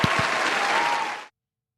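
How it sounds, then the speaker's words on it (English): Brief burst of applause from a small group, close and even, cutting off abruptly after about a second. "Round of applause for Galajaran."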